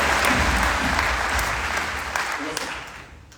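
Loud applause from a large audience at a Vestige sales training event, a thick wash of clapping that starts strong and gradually tapers over a few seconds.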